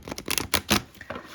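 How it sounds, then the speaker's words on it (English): Tarot cards being shuffled by hand, a few quick crisp riffling bursts close up, separated by brief pauses. "I'll just do a little bit of shuffling here."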